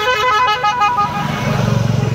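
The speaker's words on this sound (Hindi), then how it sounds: "ऊपर से गाड़ियों का शोर शराबा इतनी" Road traffic noise with repeated car horn honking, loud and close, in the town of Devprayag at midday; several toots overlap steadily across the clip.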